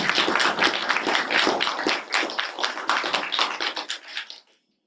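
An audience at a graduate school admissions information session applauds to welcome the department head, a dense burst of many hands clapping at moderate loudness that thins out and stops abruptly near the end.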